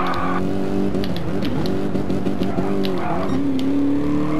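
Mercedes race car driving a lap with a loud, steady engine note that climbs and dips through gear changes, with some tire squeal and a voice talking faintly underneath.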